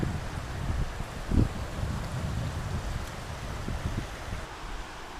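Breezy wind buffeting a microphone in a graveyard on a sunny day, a steady low rumble with one stronger gust early on, heard alone without talk.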